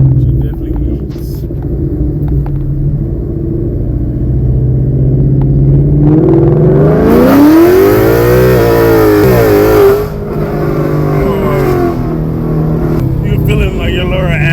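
A Ford Mustang S550 with headers and an intake, on an E85 tune, revs loudly on a dyno. A steady deep rumble climbs into a sweeping high-rpm wail, then drops back to a throaty idle, with voices talking over it.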